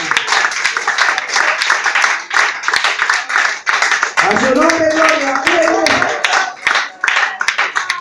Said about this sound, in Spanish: Y este aplauso es para Dios en esta mañana.